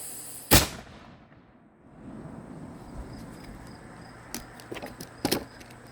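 A cannon fires one booming blast that rolls into a low rumble. Scattered faint clicks and knocks follow in the quiet outdoor background.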